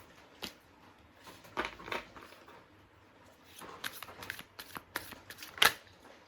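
Tarot cards being shuffled by hand: soft, irregular riffles and flicks of card stock at close range, with a few sharper snaps, fairly quiet and without talk.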